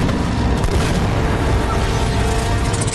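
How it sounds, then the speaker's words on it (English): Anti-aircraft fire strikes a small plane in the Uncharted: Drake's Fortune cutscene, a loud booming blast with a dense rumbling roar that fills the whole moment. "What the hell was that? An anti-aircraft fire?"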